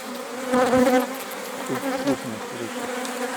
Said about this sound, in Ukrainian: сімейка заходить до мого вулика